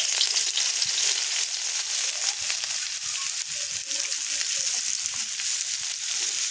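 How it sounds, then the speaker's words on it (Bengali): Chopped onions fry in oil in a wok, a dense, even, hissing sizzle that holds steady throughout with faint stirring scrapes and no talk. "তো এবার কড়াইতে দিয়ে দিচ্ছি পেঁয়াজ কুচি"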